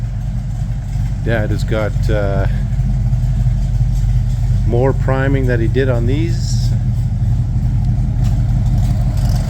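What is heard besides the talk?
tractor engine running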